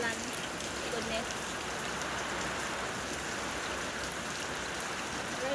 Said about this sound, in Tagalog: Heavy raindrops.